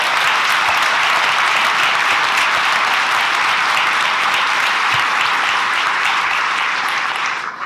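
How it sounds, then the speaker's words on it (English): A large audience at a city keynote address applauds loudly and continuously, dense sustained clapping that holds steady throughout and begins tapering only at the very end. "join me in a round of applause to show our appreciation"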